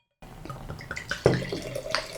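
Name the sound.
pouring dark lager beer into a glass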